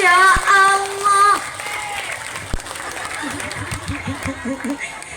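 Crowd applause breaks out at a civic gathering in Indramayu, West Java, after a first-place announcement, following a brief burst of music; steady clapping fills the room with murmuring voices underneath.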